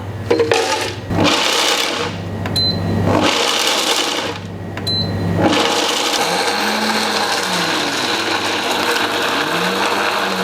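A blender grinds 150 grams of hot roasted peanuts for a sauce, roaring loudly in short pulsed bursts before settling into a steady, continuous whir.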